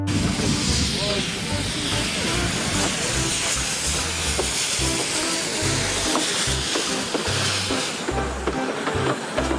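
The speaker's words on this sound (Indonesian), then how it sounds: "Kereta Thomas." A toy Thomas train gives off a loud, continuous steam-like hiss with sizzling texture and a low rumbling beat underneath, running steadily for almost ten seconds.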